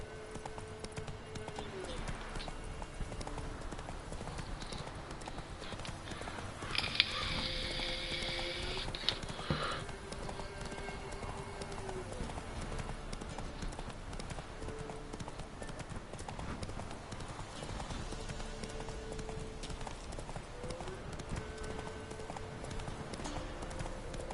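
Horse Roach gallops across terrain in The Witcher 3, hooves clip-clopping in a steady, continuous rhythm close by, with an occasional whinny and voices talking over it throughout.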